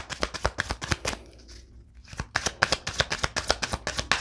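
Tarot cards being shuffled for a love reading: rapid, close riffling bursts of papery flicks, a brief pause near the middle, then another quick run of crisp card snaps, with no voice.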